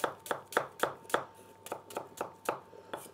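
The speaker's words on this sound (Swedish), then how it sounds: "Jag har inte hackat så mycket lök i tv vet jag." A kitchen knife chops onions on a cutting board, a steady run of about a dozen crisp, evenly spaced thuds at close range with no talking.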